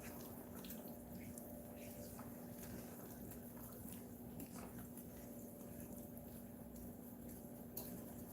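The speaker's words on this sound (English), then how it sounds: "Let me get the grapes washed." Black grapes are rinsed under a running kitchen tap, a steady, close stream of water splashing and rushing continuously with small wet squishes throughout.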